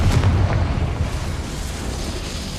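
A Confringo fire spell explodes in the Hogwarts Legacy video game, a single loud deep boom with a rumbling roar that slowly fades.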